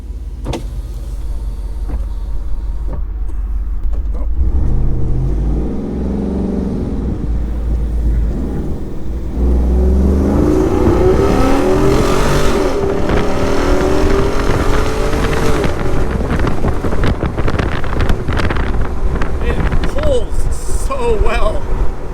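A Jeep Wrangler Rubicon 392 Xtreme Recon revs, then launches hard from a standstill, its engine note rising loudly and continuously through the gears, with a voice heard over the roar.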